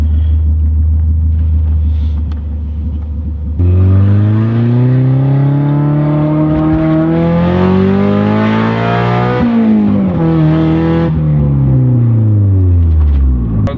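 A car running on drag radials drones loudly and close, its engine pitch climbing steadily, wavering and then easing back down during ordinary driving, with no voices.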